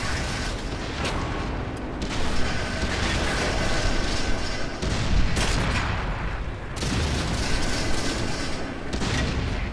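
World of Tanks tank cannon fire: repeated heavy booming blasts and rumbling battle noise, loud and dense, with several sharp cannon shots spaced a few seconds apart over continuous clanking mechanical din.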